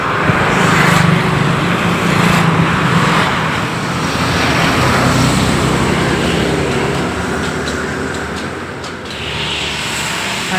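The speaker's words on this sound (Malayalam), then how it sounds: "ഉള്ള വണ്ടിയെല്ലാം നമ്മുടെ ഈ ചെറിയ വഴിയാണ് വരുന്നത് അതുകൊണ്ടാണ് കേട്ടോ ഇത്രയും തിരക്ക് റൂട്ടിന്" Heavy traffic passes along a narrow residential road on a morning walk, a loud continuous rumble of nearby vehicles swelling and fading as they go by.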